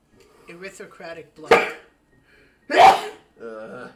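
A video game character in Iconoclasts gives one short sharp sneeze-like burst, clear and close, set between stretches of dialogue voices.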